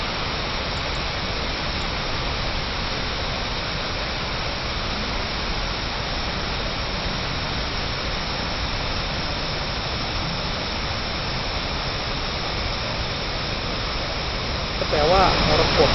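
A steady, loud roar of rushing water, a wide, strong emerald-green waterfall pouring continuously without letting up, with nothing else standing out.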